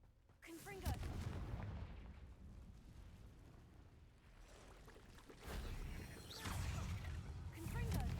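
Confringo fire-spell blasts in Hogwarts Legacy, a series of booming bursts and rumbling explosions recurring through the clip, loud and dense, with speech mixed in.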